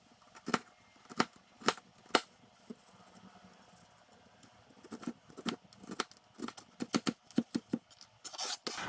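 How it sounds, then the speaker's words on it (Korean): A knife cuts a quarter onion on a board while making a low-fat pizza, giving sharp chopping clicks: a few spaced strokes early, then a quicker run of cuts toward the end. "우선 양파를 썰어 줄게요"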